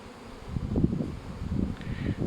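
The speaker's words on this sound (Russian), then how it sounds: "Молодая пчелка летает," Young honeybees buzz in a dense, continuous drone while flying around apiary hives in early April, a steady swarm hum close to the listener with no talk.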